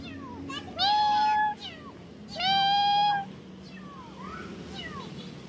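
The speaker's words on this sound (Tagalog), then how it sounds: "May nakita po kami pusa." Two clear, drawn-out meows from a frightened nearby cat hiding in tall grass in the countryside, followed by a fainter third, over soft outdoor background noise.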